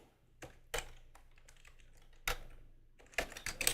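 Keystrokes on a computer keyboard come in scattered bursts of clicks, some louder taps standing out, with quiet gaps between and a faint steady hum beneath.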